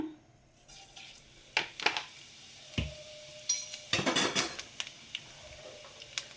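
Cumin seeds go into three tablespoons of hot oil in a pan for paneer tikka masala, giving scattered crackles and scraping stirs with a few sharp clinks of a spoon against metal, fairly close and with no talking.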